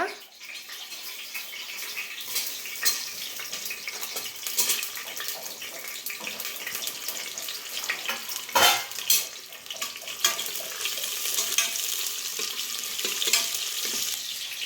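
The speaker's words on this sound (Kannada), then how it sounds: "ಹಾಗೆ ಈರುಳ್ಳಿ ಹಾಕ್ತಿದ್ದಾರೆ ಈಗ" Onions frying and being stirred in a pan for a chickpea curry, a steady hiss and sizzle that keeps going with scraping stir noises over it and no talking.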